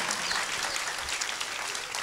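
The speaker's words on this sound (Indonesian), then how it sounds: "Iya, tepuk tangan semua" A school audience at SMA and SMK HKBP Sibolga claps together, producing a dense, steady patter of hands that holds evenly for a couple of seconds at a moderate distance.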